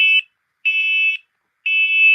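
Smoke detector sounding during a test, three loud piercing electronic beeps: a short one cut off, then two longer sustained tones separated by silent gaps, close and alone.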